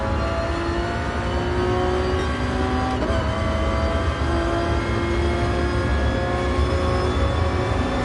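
A McLaren race car in the racing game GT Sport drones steadily throughout, its engine note holding fairly level without sharp revving, loud and continuous with no talk over it.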